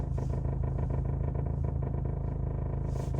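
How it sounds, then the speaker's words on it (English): A cheap scrapyard-rescued Mini Cooper idles with a loud aftermarket exhaust, a deep steady rumble overlaid with a rapid clattering, drum-like rattle from the loose, shaking body, close and continuous. "the problem is when this car's idling, it feels like you're in an earthquake because it's rattling so bad."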